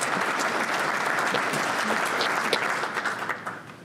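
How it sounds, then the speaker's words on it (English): Sustained applause from a large audience, steady and dense clapping throughout, tapering slightly toward the end. "let's give her a nice round of applause for being here"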